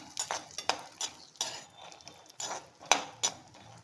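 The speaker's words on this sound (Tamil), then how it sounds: "பச்சை வேர்க்கடலை, வறுக்காத வேர்க்கடலை, அதை போட்டு லைட்டாக ஃப்ரை பண்ணிக்கணும்." Raw, unroasted peanuts tossed in a pan, with scattered clinks and scraping stirs at an uneven rhythm, close and moderately loud, over a faint sizzle and no talking.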